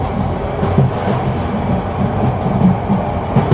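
Cox's Bazar Express train pulling out of Akhaura junction, a steady low rolling rumble of railcars with faint wheel clatter, continuous and fairly close, with no talking.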